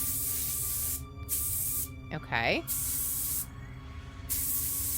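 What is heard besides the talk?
spray painting a mannequin's beard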